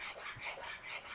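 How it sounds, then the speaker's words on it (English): A sanding block made of sandpaper tacked to flat plywood rubs fuzzy corners off the edges of a wooden tumbling-block cutting board, giving steady raspy back-and-forth strokes that sound close, even and rhythmic, with no talk. "I just go around and knock all the little fuzzy edges off."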